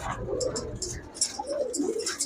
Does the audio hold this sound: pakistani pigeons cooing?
yes